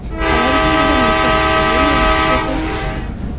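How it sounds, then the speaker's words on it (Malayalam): A train horn in the video game Indian Bike Driving 3D blares loudly and steadily with rich, wavering harmonics, then cuts off, leaving a fading rumble behind. "ട്രെയിനിൻ്റെ അകത്ത് നമുക്ക് ട്രെയിൻ ഓടിക്കണം."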